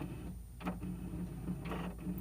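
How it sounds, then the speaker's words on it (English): A malfunctioning printer running with a steady mechanical hum and rhythmic whooshing strokes at regular intervals, moderately loud and close, with no talk. "My printer is freaking out."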